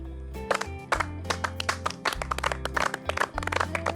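On a food truck cooking competition set, a few pairs of hands clap in an uneven, fairly close rhythm over a steady low hum and faint background music.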